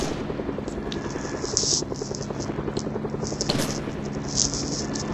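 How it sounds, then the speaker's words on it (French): In Fortnite, a steady helicopter rotor thrum drones throughout with a faint rhythmic beat, joined by sharp crackling bursts that sound like gunfire in the distance. "Les hélicoptères, ça suffit."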